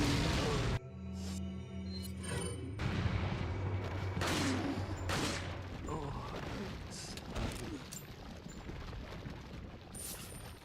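Grenade explosion and gunfire in Resident Evil 4: several sharp booming bursts with rumbling tails, spaced through the scene over a low game score.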